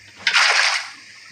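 Water placed in Minecraft, a single short burst of splashing flow that swells quickly and fades within about a second.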